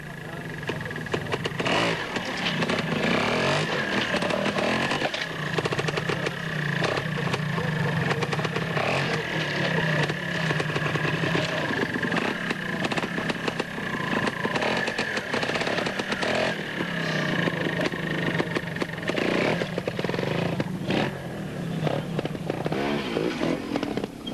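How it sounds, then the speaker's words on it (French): An Italian Fantic trial motorcycle at the 1988 world trial championship in Montbrison, France, revs and bursts repeatedly as it picks through a rough rocky section, with steady loud engine noise throughout and crowd voices and a commentator talking underneath. "Voilà Thierry Michaud sur sa moto Fantique, c'est italien."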